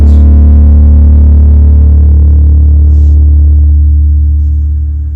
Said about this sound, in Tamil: கிட்டார் பேஸ் கொஞ்சம் ரேஸ் ஆயிடுச்சு